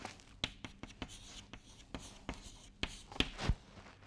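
Writing strokes during a lecture on wave propagation, a series of short scratchy taps and scrapes at an irregular rhythm, close and fairly quiet, with no talking over them.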